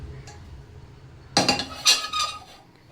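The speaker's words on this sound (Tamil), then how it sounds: "தாளிக்கிறதுக்காக ஒரு கடாய் வச்சுக்கோங்க." A kadai pan set down on a stovetop, making a few close, sharp metallic clanks in quick succession after a quiet pause.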